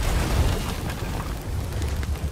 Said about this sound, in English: Whoever threw that first one hit the explosive barrel